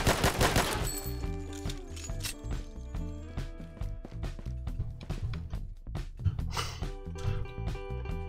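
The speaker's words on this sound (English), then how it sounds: "The machine gun is where it's at." Machine gun fire in the video game Regain Earth: First Strike, rapid rattling bursts of close gunshots repeating throughout, with a louder volley at the start and tonal game sounds underneath.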